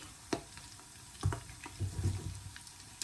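Chicken pieces frying in hot oil for Korean fried chicken, giving a soft steady sizzle with a few sharper pops and bubbling bursts, close by and with no talking.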